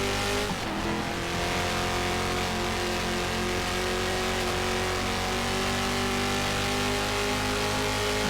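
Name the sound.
race car engine revving in GTR2 racing video game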